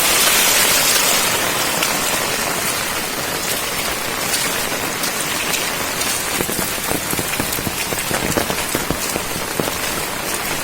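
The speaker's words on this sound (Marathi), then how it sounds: "आता जरा पाऊस कमी झाला आहे" Dense, steady overnight downpour of heavy rain in Konkan pattering hard on surfaces, loud and close, with no voices.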